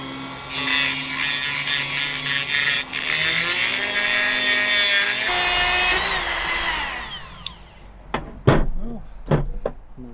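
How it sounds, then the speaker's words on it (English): A Dremel rotary tool cutting through the end of a metal rivet on a van roof rack, a loud high whine for several seconds that winds down, followed by a few sharp knocks and clanks. "Use the Dremel tool. Cut off the end of the rivet here."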